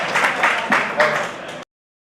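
Audience applause at a Hindi poetry recital (kavi sammelan) at a college, broadband clapping bursts that rise and fall, fairly loud and close, lasting about a second and a half before cutting off.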